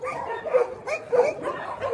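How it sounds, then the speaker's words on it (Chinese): Several dogs in a mountain area barking and yipping in short bursts, close by, with a brief whimpering edge between the barks. "这是这个区域的几只狗狗"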